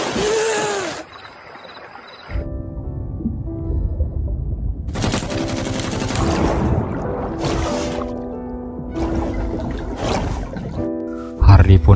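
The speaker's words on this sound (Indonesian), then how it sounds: "si penjaga menyadari sesuatu dan menembaki mereka semua" Film gunfire as guards shoot at divers underwater, bursts of muffled automatic fire with bubbling, watery rumble, heard under a narrator's voice talking over the scene.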